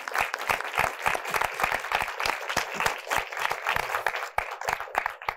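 An audience claps steadily at an academic symposium panel, many hands producing dense, continuous applause that swells and holds for several seconds without speech.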